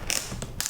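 A ratchet strap on a Burton Re:Flex snowboard binding clicks tight in a few quick, close ratcheting creaks, two bursts with a faint tick between them.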